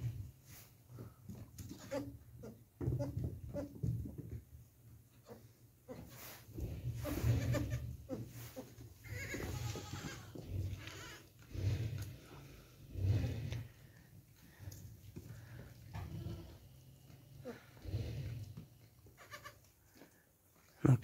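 Newborn goat kids bleat repeatedly in a farm pen, a series of short, fairly close cries scattered at an irregular rhythm over steady low background noise.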